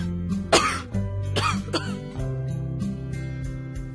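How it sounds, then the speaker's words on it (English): A child coughs twice in quick succession, sharp loud bursts close by, followed by quieter throat-clearing sounds and a soft tonal background. "Is it correct to cough without covering your mouth?"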